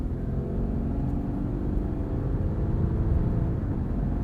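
Cabin drone of a 2021 Subaru Crosstrek with a CVT on the move, a steady low engine hum and road rumble held at an even level with no voices over it.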